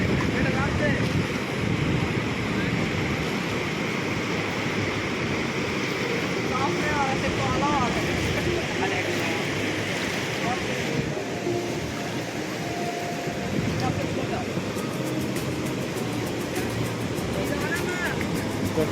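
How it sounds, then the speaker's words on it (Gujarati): Water rushes over a causeway bridge in a steady, loud roar, mixed with heavy wind buffeting the microphone, while a voice talks intermittently. "આ છે કોઝવે પુલ. તમે પાણી જોઈ શકો છો, કેટલું મસ્ત શાનદાર પાણી જાય છે."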